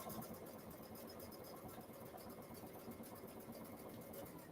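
Steady close-up whir and rapid needle chatter come from a sewing machine running a seam across the bottom of a fabric Halloween party bag, continuous and even throughout with no talking.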